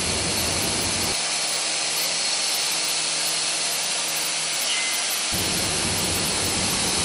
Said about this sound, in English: the vertical spindle drilling a hole pattern in the same window